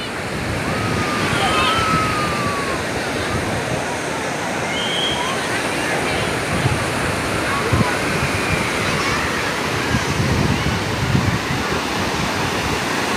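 Sea surf rolls in continuously at Suryalanka beach, a loud, broad wash of breaking waves with wind buffeting the microphone and faint voices underneath.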